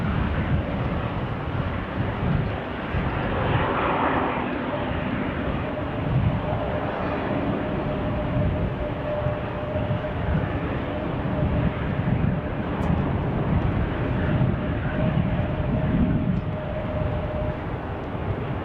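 Boeing 737-800 jet engines at Salt Lake City International Airport, a steady broad roar with a faint sustained whine, distant and continuous, with no voices.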